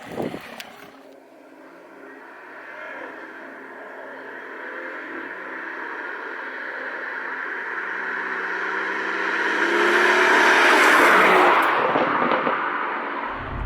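A BMW M140i with a resonator delete exhaust drones and burbles while driving, engine note building steadily to a loud peak before easing off, with a few sharp thumps at start and end.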